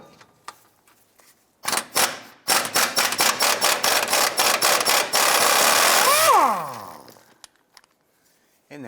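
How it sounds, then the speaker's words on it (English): A cross member center bolt being loosened and removed on a 2001-2005 Honda Civic during a rear engine mount replacement, rapid loud ratcheting bursts from a power tool, then a whirring spin-down, with quiet gaps before and after. "Go ahead, loosen and remove this center bolt here."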